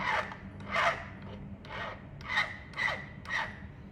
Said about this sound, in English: So make sure that your butt joint, again, you have another butt joint, that those materials are really nice and square. So I'm going to be filing